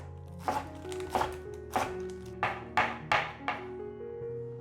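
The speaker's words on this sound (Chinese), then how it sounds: "把菠菜切碎，" Fresh spinach chopped with a knife on a cutting board: about eight crisp, separate chops in an uneven rhythm, close and clear against a quiet kitchen background.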